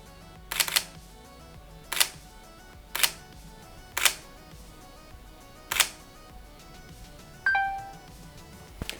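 A series of crisp camera shutter clicks, about six of them at irregular intervals, followed by a short electronic beep, near and fairly quiet.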